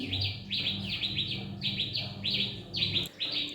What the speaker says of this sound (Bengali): আর দেখুন কত বুলবুলি দোয়েল ডাকছে